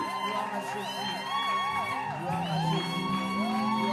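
A church congregation at a Bible conference cheers, whoops and shouts with joy, a steady crowd roar of overlapping voices with rising and falling cries, loud throughout.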